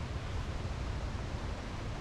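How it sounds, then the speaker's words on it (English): Steady, loud broadband roar of strong wind buffeting in Kenya, with heavy low rumble and no pauses or voices. "Yeah, so today it's so windy."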